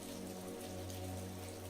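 Heavy rain pours down in torrents, a steady dense hiss of drops with a low rumbling hum beneath, unbroken and fairly quiet throughout.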